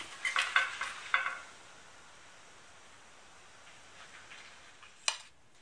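Moroccan msemen flatbread cooking in a pan, with a few bright scraping and clinking strokes of a utensil at the start, then a soft, faint sizzle and one more clatter near the end.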